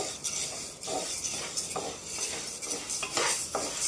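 Grains dry roasting in a pan for uggu, stirred briskly so dry rattling and scraping swishes repeat in quick strokes, close and fairly quiet.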